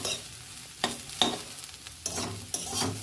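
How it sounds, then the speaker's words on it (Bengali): Potatoes and bitter gourd stir-fried in a pan with chilli, salt and turmeric, several scraping stirs over a soft sizzle, close up and with no talking. "আমার আলু ভাজা করলা ভাজা হয়ে গেছে, এবার আমি তুলে নেব।"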